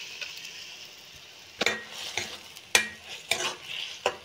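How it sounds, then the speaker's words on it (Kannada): Ground green chilli, ginger and garlic paste frying in a pan, a steady soft sizzle broken by several sharp scrapes and clinks of a spoon stirring against the metal. "ಅಂದರೆ ಸ್ವಲ್ಪ ಫ್ರೈ ಮಾಡಬೇಕು."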